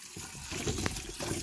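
Tap water runs steadily while potatoes are rinsed clean in an outdoor backyard kitchen in Jamaica, a close, continuous splashing wash with no talk over it.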